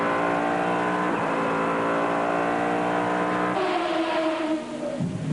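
Panoz GT1 race car engine heard from on board during a 1998 FIA GT race, a loud sustained harmonic roar that holds steady, then shifts pitch abruptly with gear changes and a brief dip near the end.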